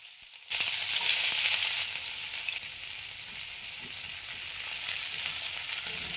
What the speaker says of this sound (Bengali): এবার কড়াইতে তেল দেব, তার ভেতরে দেব সেই পেঁয়াজটা